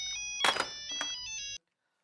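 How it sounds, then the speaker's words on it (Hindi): A telephone ringtone plays alone: a bright electronic melody with sustained tonal notes, one stronger burst near the start and a second shorter one, ending abruptly after about a second and a half, followed by silence. "मेरा कोई फोन आ रहा है"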